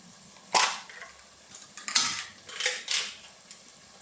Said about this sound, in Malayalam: നമുക്കിത് ആദ്യം ഒന്ന് നന്നായിട്ട് ഇളക്കി കൊടുക്കാം